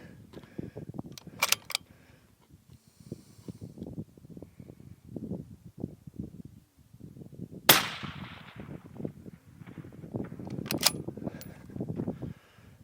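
Two rifle shots fired outdoors, each a sharp, loud crack standing out from ongoing speech, spaced a few seconds apart with people talking throughout.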